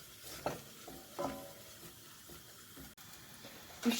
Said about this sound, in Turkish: Kokusu burnuma gelinceye kadar tereyağımla birlikte unumu kavurmaya devam ediyorum